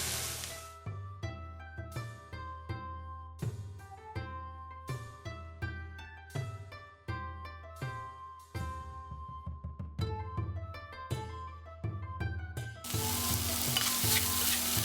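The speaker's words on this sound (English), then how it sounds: "Gonna add the cold rice next." Cold rice stir-fried in a pan for fried rice, with a soft scraping and hissing sizzle under steady background music that swells into a louder, fuller sizzle near the end.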